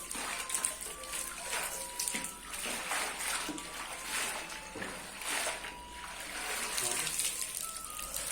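Fresh spinach being washed by hand in a basin of water, with continuous splashing and swishing at close range throughout and someone speaking over it.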